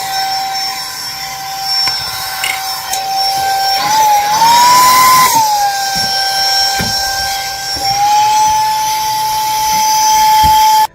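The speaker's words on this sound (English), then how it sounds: "So this is a vacuum cleaner." A UZM 3-in-1 car vacuum, tire pump and air extractor runs in vacuum mode with a steady, high motor whine that briefly rises in pitch and then settles, loud and close throughout before cutting off at the end.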